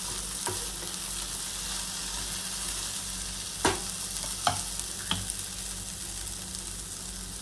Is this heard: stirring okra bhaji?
yes